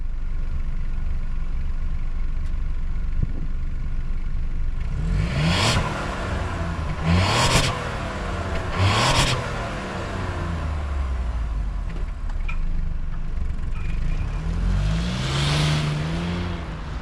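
Robin's Egg Blue 2023 Ford Bronco Sport Heritage 4x4 out on the road, a steady engine and road rumble inside with several loud whooshes of traffic passing close by.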